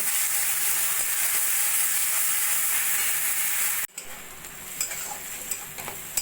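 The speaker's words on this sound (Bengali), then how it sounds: "আদা রসুন বাটাটা মশলার সঙ্গে মিশিয়ে নিয়ে কষিয়ে নেব" Ginger-garlic paste frying with spice paste in a pan, a steady loud sizzle that drops off sharply partway through, then returns more softly with light stirring ticks.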